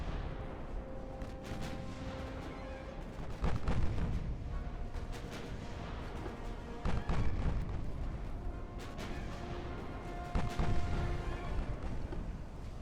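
Naval guns fire in the warship game Ultimate Admiral Dreadnoughts, with several deep booms spaced a few seconds apart over a constant low battle rumble, moderately loud and without speech.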